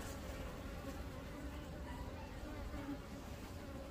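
A bee colony hums with a steady, dense, low buzzing of many insects throughout, faint and continuous, with a murmur of background voices mixed in.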